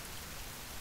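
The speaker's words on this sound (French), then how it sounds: "il repleut" Steady rain falling in the survival video game The Forest, a soft, even hiss of drops with no pauses, fairly faint and heard alone without voices.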